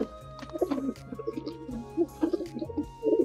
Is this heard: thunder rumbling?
no